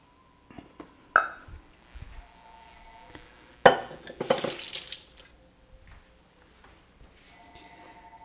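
Spoon clinks and scrapes against a bowl while Persian dolma filling is mixed with savory, herbs and green onions, in sparse, quiet bursts with a few louder knocks in between.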